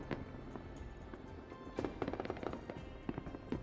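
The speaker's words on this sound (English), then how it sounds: "We were surrounded by a barrage of fireworks from the Gibraltar end of the bay" Fireworks go off at midnight around Gibraltar bay, toward La Linea on the Spanish side, as a fairly distant barrage of crackling bursts and pops that thickens into rapid clusters.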